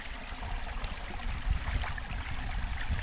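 Strong spring-fed stream rushing steadily nearby, a continuous dense wash of flowing water with no voices.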